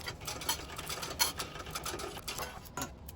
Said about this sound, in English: I'm going to back stitch and continue all the way down